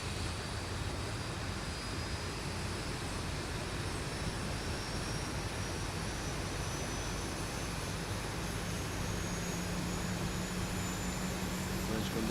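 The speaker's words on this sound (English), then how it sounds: "engine number 1 has started up" A Boeing 737-800 jet engine starts up in the X-Plane 11 flight simulator, a steady, loud broadband roar with a faint rising whine held evenly throughout.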